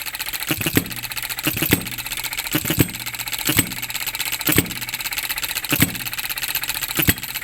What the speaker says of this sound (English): Trying to control the fuel feed to get the idle speed where you want.